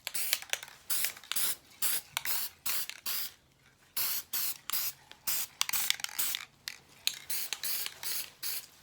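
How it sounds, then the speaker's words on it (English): A can of Rust-Oleum silver high-heat spray paint is sprayed onto antique wood cook stove trim in repeated short hissing bursts, with a brief pause midway, close and fairly loud. "silver high heat paint Rust-Oleum, and I'm just rattle canning it"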